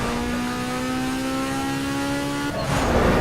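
A game car drives through city streets in Need for Speed Underground 2. A steady engine drone holds for a few seconds, then shifts into a rougher burst as it accelerates. No one speaks.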